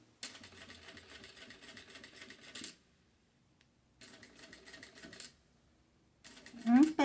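Sewing machine backstitching on fabric while making a patchwork organizer folder, short close bursts of rapid stitching separated by pauses, ending in a louder clatter.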